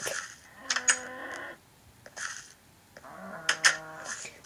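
A cow moos twice, long drawn-out lowing calls separated by a pause, fairly close and clear with no talking.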